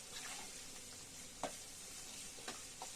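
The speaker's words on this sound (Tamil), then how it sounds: "வெங்காயம் நல்லா வதங்கிடுச்சு." Onions salted with rock salt sauté in a pan for a yam tamarind curry, giving a steady broadband sizzle with a few brief spoon-scrape clinks of stirring, close and even, with no voices.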